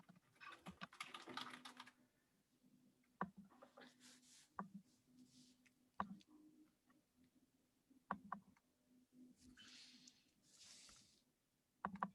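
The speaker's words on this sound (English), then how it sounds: "Jeanette, I'll type it out for you" Someone types on a computer keyboard during an online meeting, with faint, irregular bursts of soft key clicks separated by sharper isolated taps, quiet and close with no talk over it.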